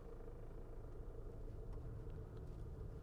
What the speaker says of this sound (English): the car is just going down on its own, braking